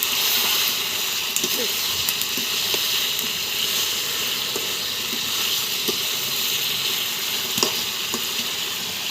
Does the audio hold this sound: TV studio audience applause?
no